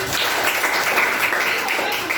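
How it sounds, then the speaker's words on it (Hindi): Children in a class clapping for a student, a loud, continuous, dense wash of many small hands with no pauses, close by and without speech. "ललिता जी ताली हो जाए भाई"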